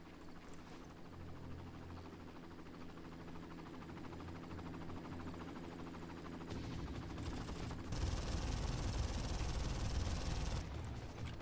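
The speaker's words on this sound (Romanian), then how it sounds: "Vine un elicopter, nu e bine." Helicopter approaching in the Far Cry video game amid heavy gunfire, a steady rotor drone under dense bursts of automatic shots that grow louder and more intense in the second half.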